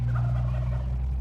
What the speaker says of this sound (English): they're gonna shock gobble too